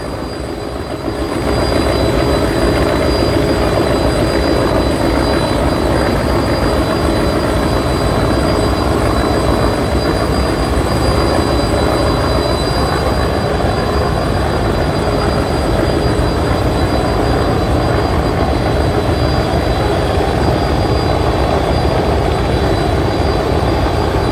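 Engine of the Betua-route passenger launch MV Tipu-13 overtaking another launch on the river, a loud, continuous low drone and rumble with steady wind and water wash and no break.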